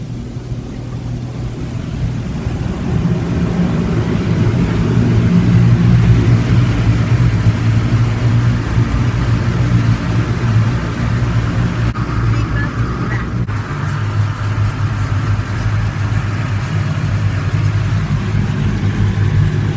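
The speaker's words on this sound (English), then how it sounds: "Now we're getting a high power wind." A high-power air blower at an Esso car wash in Vaughan roars steadily and loudly, a broad continuous rush of wind that swells and holds, with some talking underneath.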